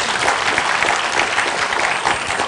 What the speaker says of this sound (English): So a round of applause for Leong Teck also.